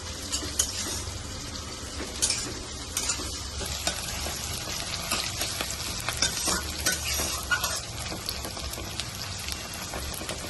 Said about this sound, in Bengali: তো কাঁচা লঙ্কা পেঁয়াজটা ভালো করে ভেজে নেব।